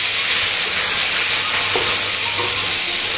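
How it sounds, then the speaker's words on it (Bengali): Masala being sautéed for dahi parwal sizzles loudly and continuously after a splash of water, a dense close hiss with faint stirring scrapes and no voices. "মশলা কষানোর জন্য একটু জল অ্যাড করলাম"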